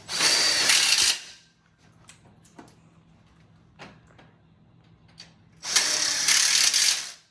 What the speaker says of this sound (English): now I'll go ahead and install a screw on the back side.